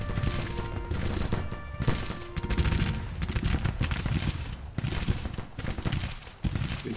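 Cannon and musket fire from the Civil War strategy game Grand Tactician crackles in a dense, continuous fusillade with booming low rumbles and scattered sharper shots, steady and fairly loud throughout.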